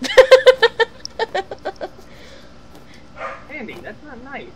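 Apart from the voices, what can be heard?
dog barking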